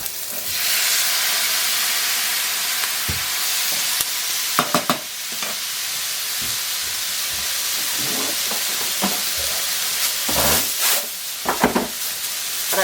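Shredded cabbage hits hot oil in a pan with a loud, broad sizzle and steamy hiss, broken by bursts of stirring and scraping as it fries, with no talking.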